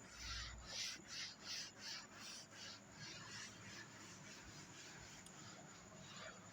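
Rhythmic rubbing strokes wipe writing off a classroom board, about six soft scrubbing passes in a row that then fade into a quieter, continuous scrape, faint and close.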